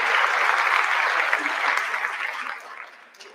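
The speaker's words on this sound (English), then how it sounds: "Let's give Nancy a round of applause" A room of staff at a school's end-of-year celebration claps for Nancy, a short burst of close, dense applause that tapers off over a few seconds.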